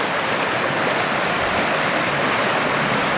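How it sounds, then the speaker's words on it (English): Porcupine Creek in Kananaskis, a mountain stream near Calgary, rushes steadily and loudly in a close, dense broadband wash with no pauses and no voices. "I have this Porcupine Creek. This is basically the North"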